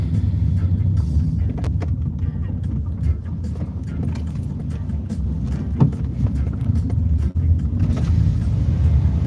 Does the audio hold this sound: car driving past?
yes